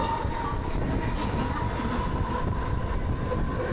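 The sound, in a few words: train on the Panvel harbour line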